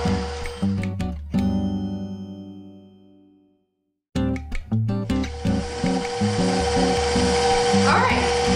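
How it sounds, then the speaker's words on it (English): VersaMeal Genesis 1 mixer blending eggs into blueberry muffin batter: a close motor whir with rhythmic thumping that winds down into silence, then starts again and runs steadily, with a faint voice over it. "we're going to mix for a minute or so until well blended"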